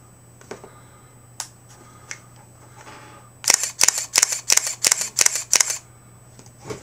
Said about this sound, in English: The shutter.